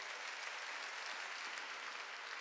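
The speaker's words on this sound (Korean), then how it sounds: "깨달아서 박수 치라고요." A church congregation claps during a Sunday service, a dense, steady wash of many hands heard throughout at moderate distance.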